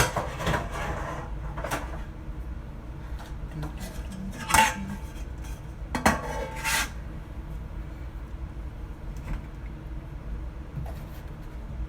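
Metal cake pans being handled and greased in a home kitchen for a Halloween cake, with scattered clinks and clatters, two louder knocks midway, over a steady low room hum with no talking.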